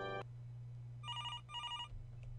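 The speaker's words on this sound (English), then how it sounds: "Can I answer the phone?" Two bursts of electronic telephone ringing from the video game Suits: A Business RPG, each a rapid trilling ring about half a second long, set over a steady low hum with no talking.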